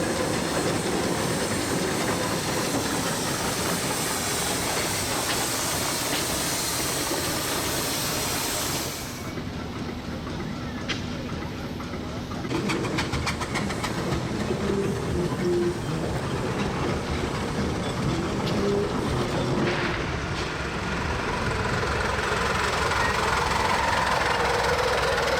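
Miniature steam locomotives running on a 1 km, 7¼ inch gauge live-steam railway, with steady rumble and hiss throughout, a brief quieter stretch midway, then louder chuffing and rolling noise.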